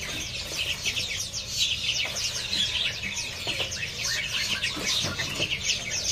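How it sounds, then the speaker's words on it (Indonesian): Busy bird market stall with many caged birds, chirping and clucking calls overlapping densely and continuously at close range, including a pelanduk semak among them, and no clear speech. "Di kios ini juga ada burung pelanduk semak."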